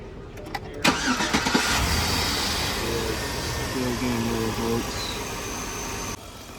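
A car engine cranks and catches in a short sequence of starter whirs, then settles into a steady, fairly loud idle, heard close up in a workshop lab.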